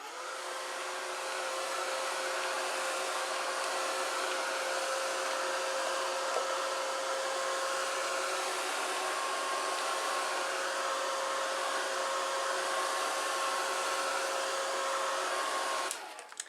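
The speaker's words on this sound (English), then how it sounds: "I'm going to hit this with the dryer" A hair dryer drying paint blows steadily with a constant whining hum for a long stretch, then clicks off.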